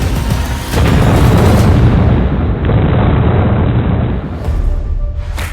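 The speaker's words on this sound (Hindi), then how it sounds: "होता है ऐसा धमाका।" A bomb blast from a drone attack on soldiers in a war zone, a loud, sustained roaring boom that swells in after a short lead-in and rumbles on for several seconds before fading, with no voices.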